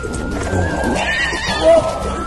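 A horse whinnies up close in a film scene with faint hoof clip-clops, while people speak briefly nearby.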